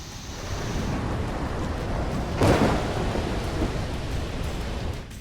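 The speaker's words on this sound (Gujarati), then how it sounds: "માથે ઘનઘોર ઘેરાયેલા વાદળો અનરાધાર વરસી રહ્યા છે" Heavy monsoon downpour in Junagadh, Gujarat, a steady dense roar of rain with a single thunder crack rumbling through mid-way, with no voices.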